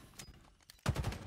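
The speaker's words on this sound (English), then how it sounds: "I think I'm getting hit by a pistol." Halo Infinite multiplayer gunfire: after a near-silent second, a loud, dense burst of rapid shots erupts and sustains to the end, with no talk.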